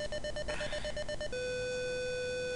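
A telephone rings in the video game Fascination: a pulsed electronic ring tone repeats several times, then gives way to a long steady tone, clear and alone with no talk.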